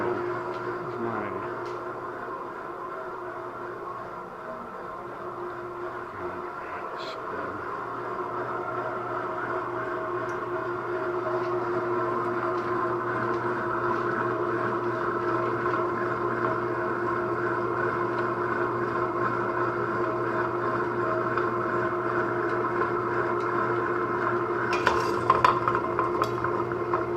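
A stone-wheel chocolate grinder (melanger) runs steadily, its wheels rolling over warm chocolate in a fairly loud, continuous mechanical drone with faint clinks on top and no speech.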